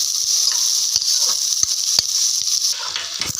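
Food sautéing in hot ghee in a pan while cooking ghee rice, giving a steady close sizzle and hiss with a few faint clicks of stirring.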